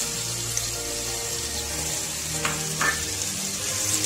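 Tomatoes frying in a pan with garlic and ginger for aloo matar rice give off a steady, close sizzle with occasional bursts of bubbling and spattering, and no one talks.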